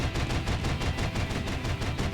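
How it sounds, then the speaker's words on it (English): Sustained rapid gunfire from the video game Xenoblade Chronicles X, a loud continuous rattle of shots with steady rhythmic pulses throughout, alone with no talking. "Let's wake 'em up with some gunfire."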